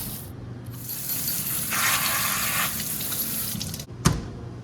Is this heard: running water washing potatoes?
yes